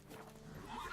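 Roach the horse in The Witcher 3 lets out a short, faint neigh that rises and wavers over about a second, with no speech.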